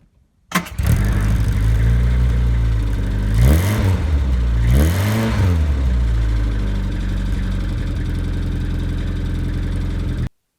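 A 1977 Reliant Robin three-wheeled car engine starts and idles with a raspy, buzzing note, rising in two quick revs partway through before settling back to a steady idle.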